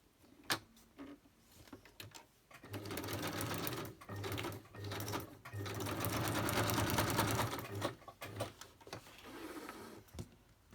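A sewing machine runs zigzag stitching on antique lace for a Christmas photo folder craft, sewing in several sustained bursts of rapid mechanical whirring separated by short pauses and small clicks.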